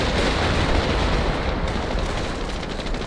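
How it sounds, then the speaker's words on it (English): Artillery blasts and explosions from the World War II strategy game Company of Heroes roll together as a dense, continuous rumbling barrage, loud and close, with no clear gaps between impacts. "Throwing in some artillery as well."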